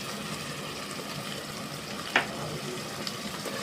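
Mint paste sautés in a pan for mushroom biryani, giving a steady low bubbling sizzle with a single sharp clink of a utensil.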